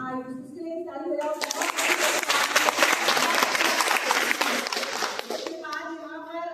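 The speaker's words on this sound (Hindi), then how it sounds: "इसके लिए ताली बजाओ।" Applause from a group at an Independence Day celebration swells into several seconds of dense clapping, bracketed by voices speaking at the start and end.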